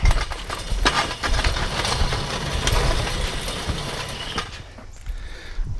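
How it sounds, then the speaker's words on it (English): A heavy trampoline drags across a lawn in uneven scraping pulls with creaks and rattles of its metal frame, fairly close, with no talking. "I'm moving the trampoline."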